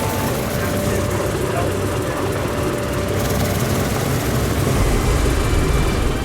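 A Boeing B-17 bomber's propeller engines drone in a loud, steady, unbroken roar that stays even throughout and fills the space with low rumble.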